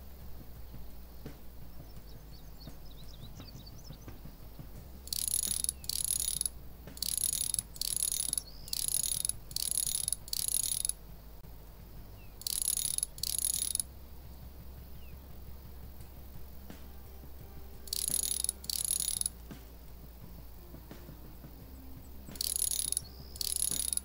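Lock wheels turn during lockpicking in Thief Simulator, a game: repeated bursts of high, chirring ratchet-like clicking, each lasting about a second, start and stop in irregular runs over a steady low game ambience, with no talking.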